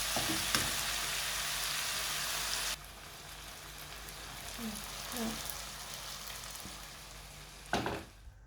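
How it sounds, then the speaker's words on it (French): Onions frying in a pan make a dense, loud sizzle that suddenly drops to a softer steady crackle, with a few light scrapes and a clatter near the end. "j'ai fini de faire cuire mes oignons"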